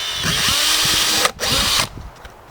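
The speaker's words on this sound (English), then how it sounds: "drill a hole through the bucket here" Power drill boring a hole through a plastic bucket, a loud close whirring whine that briefly cuts out, resumes, then stops abruptly.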